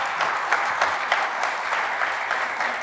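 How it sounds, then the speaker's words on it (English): Steady applause from a small crowd, continuous clapping with a few louder claps standing out, close and fairly even throughout. "That deserves some applause."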